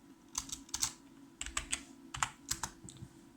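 Keys clatter on a computer keyboard as a command is typed, with close, crisp clicks arriving in short bursts separated by brief pauses, over a faint steady hum.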